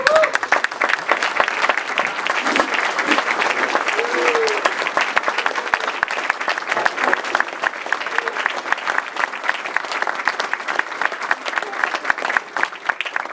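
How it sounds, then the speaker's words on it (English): A standing audience gives a sustained round of applause at the Gold Seal Award ceremony, dense steady clapping filling the room for the whole stretch, with faint voices and a whistle poking through now and then. "So I'd like to really give you guys a round of applause"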